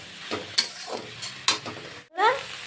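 Pea greens and broken lentil dumplings frying in a pan, with scraping stirs and a few sharp utensil clicks over a low steady sizzle, briefly cutting out before the frying noise swells back.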